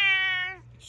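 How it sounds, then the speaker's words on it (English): A cat gives one loud, close, drawn-out meow that tapers off, followed by a short quiet pause. "she's just a very vocal cat"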